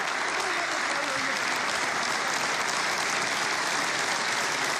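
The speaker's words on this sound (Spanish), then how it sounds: "Ahí recibió los aplausos de los invitados presentes." Invited guests, among them diplomats, ministers and legislators, applaud as Ecuador's president enters the legislative chamber: a continuous, even wash of many hands clapping at close range, filling the whole stretch without pause.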